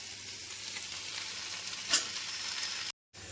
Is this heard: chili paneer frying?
yes